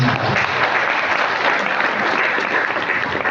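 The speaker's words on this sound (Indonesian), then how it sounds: "Tepuk tangan untuk teman-teman saya." A crowd at a National Santri Day speech gathering claps steadily, dense sustained applause filling the whole stretch, loud and close with no break.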